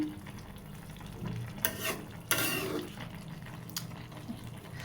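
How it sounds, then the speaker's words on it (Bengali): Pumpkin greens cooking in a pan, a soft low sizzle under brief scraping stirs and a couple of sharp clatters from the utensil, close up and fairly quiet with no talk. "একটু নাড়াচাড়া দিয়ে দিব তলেরগুলো হয়ে গেছে উপরেরগুলোই"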